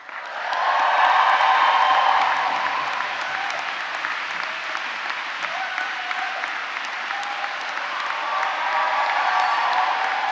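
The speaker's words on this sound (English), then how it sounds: "So you're going to warm yourself up now with the loudest cheer that you can get." Graduands at a summer graduation ceremony cheer and applaud loudly as a large crowd, a dense roar that swells in the first seconds, then holds steady with scattered whoops through the rest.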